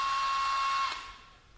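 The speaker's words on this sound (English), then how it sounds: "drill out those holes. We would use slow RPMs with our 1/4 inch high-speed steel drill bit." A 1/4 inch high-speed steel drill bit boring holes at slow speed with light pressure while installing a boom kit gives a steady, loud whining grind that cuts off near one second and fades into quiet.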